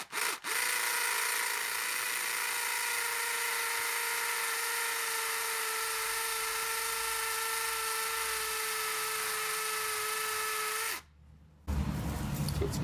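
A high-pitched drill whines steadily at close range for about ten seconds, then cuts off abruptly, followed by brief rustling.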